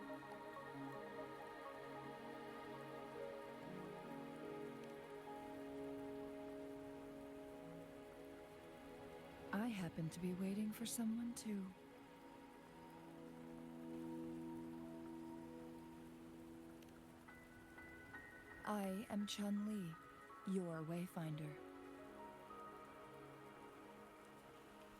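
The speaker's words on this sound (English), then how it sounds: "Don't worry, the rain won't last much longer." Steady rain patters on surfaces in the video game Wuthering Waves, a soft continuous hiss running under game music, while voiced characters speak in two short passages.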